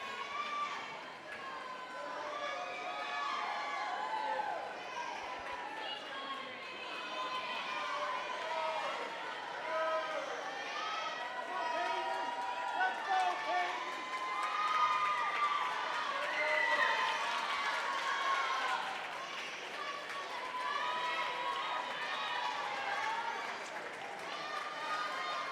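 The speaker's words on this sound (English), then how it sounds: "Her teammates cheering her on." Teammates cheer and shout from the deck during a Hockomock League swimming championship race, a steady, distant crowd roar with a commentator talking over it throughout.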